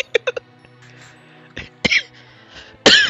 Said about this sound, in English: I'm coughing up a little bit.